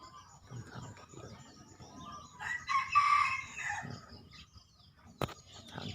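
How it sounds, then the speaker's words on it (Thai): A single junglefowl crow rings out midway, moderately distant, amid quiet outdoor morning rustling and a sharp knock near the end. "มีไก่ป่าอยู่ทางนี้อีกตัวนึง"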